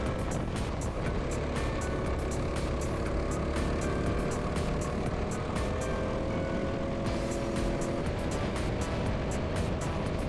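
Racing go-karts pass one another on a track during a kart championship, their engines a loud, continuous, close-up drone that rises and falls in pitch throughout.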